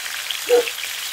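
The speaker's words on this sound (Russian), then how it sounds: "Все это хорошо вымешиваем и обжариваем на большом огне на сковороде" Ribs in a sweet-and-sour pineapple marinade fry over high heat in a pan, giving a continuous close hiss and sizzle with a soft thump partway through.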